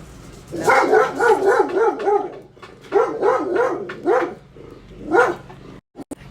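Dog barking aggressively at a postman delivering mail: loud close barks in three rapid bursts, with short whimpering yips between the groups and a brief gap near the end.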